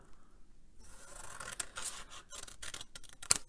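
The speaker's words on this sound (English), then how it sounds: "So I shall just trim that off" Scissors trim excess paper from the edge of a handmade semi-circular book, a quiet run of close crisp snips and rustles that ends in a sharp click.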